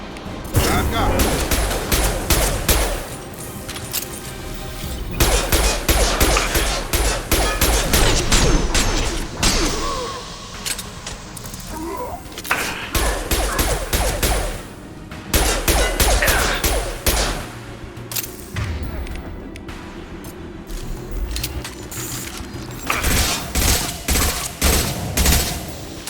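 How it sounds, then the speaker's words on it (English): Mass Effect 2 combat gunfire comes in rapid bursts of shots with crashes and impacts, loud and close, broken by short lulls, with game voices calling out in between. "Firing a high-impact shot!"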